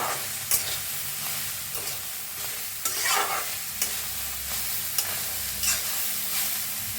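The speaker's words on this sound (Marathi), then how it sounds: "आता थोडंसं तेल वतून भाजून घेऊया आपण हलवून भाजून घेऊया पत्ता गोबीला" Shredded cabbage roasting in a little oil, stirred in a pan: a continuous soft sizzle broken by periodic scraping strokes of the spatula, close and without speech.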